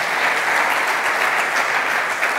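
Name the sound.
audience applause for the organizers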